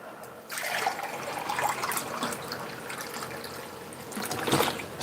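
Someone drinks warm water, with continuous wet gulping and trickling sounds close up, fairly steady for several seconds and a little louder near the end, with no talking.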